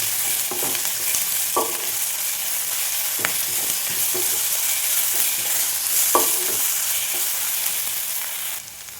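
Crushed ginger, garlic and green chili sauté with onion in a pan for a chickpea kurma, giving a steady close sizzle throughout, broken by a few scraping stirs of the spoon.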